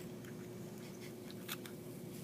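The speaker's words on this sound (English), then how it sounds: "Then you take your scissors and you go into that incision and just cut around. You hear the crunching?" Scissors snip and crunch through the tough sclera of an eye during a dissection, giving faint, quiet, irregular crackling cuts with a slightly louder crunch near the end over a steady low hum.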